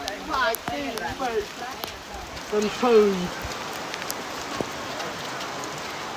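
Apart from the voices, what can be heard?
rain falling in the forest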